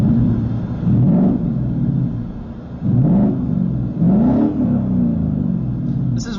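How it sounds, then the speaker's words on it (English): A Ford Mustang GT S550 revved while parked, heard from inside the cabin: three rising engine revs with muffled exhaust rumble, each climbing then falling back to a steady idle hum. "I'm going to show you guys a couple of revs, so how the owner of the car hears its exhaust from the inside."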